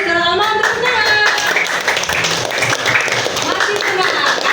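Students in a classroom clapping hands together during an Islamic religious education lesson, loud brisk clapping mixed with children's voices and chatter over it.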